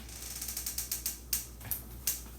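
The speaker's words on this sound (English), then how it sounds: "let me open this door" Close to the recorder, a door opens in a home with a quick series of ratcheting clicks from the latch or handle, followed by a few sharper clacks.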